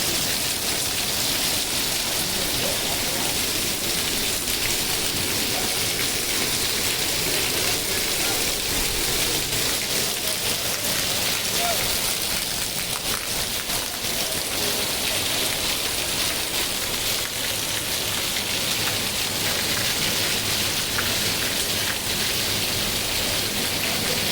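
Steady, dense rain hiss falling on surfaces in Talaja, continuous and fairly loud throughout, with no voices.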